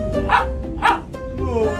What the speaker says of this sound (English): he barks for like the numbers that he sees